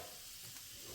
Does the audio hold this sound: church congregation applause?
no